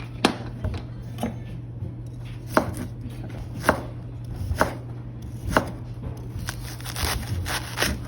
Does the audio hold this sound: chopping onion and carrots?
yes